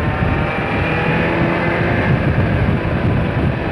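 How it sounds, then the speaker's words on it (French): Steady engine drone of a small scooter going by, loud and close, blended with gusty wind rumble across the whole stretch. "Le petit scooter là."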